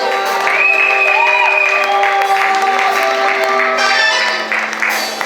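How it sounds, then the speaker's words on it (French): A church congregation applauds and cheers during a worship service, a dense wash of clapping with sustained tones and voices held over it, loud and continuous before easing slightly near the end. "Les acclamations pour notre Dieu"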